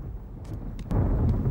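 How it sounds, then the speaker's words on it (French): A deep rumble of thunder in a cartoon storm grows suddenly louder partway through and keeps rolling, with a few faint crackles over it. "il ne fait pas nuit, c'est l'orage."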